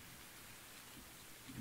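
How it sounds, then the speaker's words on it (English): Steady rain in the farming game Farming Simulator 19, a soft, even hiss of falling drops with no distinct hits or speech. "yeah, it is tempting because it's raining"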